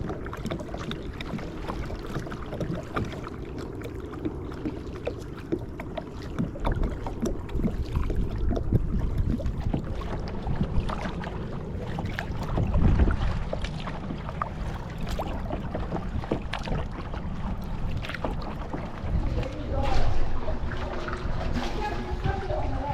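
A kayak paddled through water at John D MacArthur Beach State Park in North Palm Beach, Florida, giving irregular splashes and drips over a steady wash of water and wind, with occasional swells of louder paddling.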